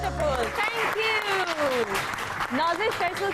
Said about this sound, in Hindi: एक मरतबा फिर ह्यूज राउंड ऑफ अप्लॉज